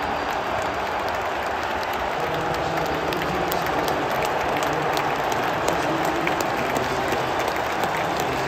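Rangers fans clap steadily in a large football stadium after the decisive penalty of the Europa League final against Eintracht Frankfurt, a dense, continuous wash of crowd applause with no pauses.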